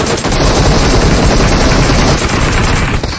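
Gunfire in the mobile game PUBG Mobile comes as loud, dense, rapid automatic bursts that run almost without pause through the whole stretch, with no talking over it.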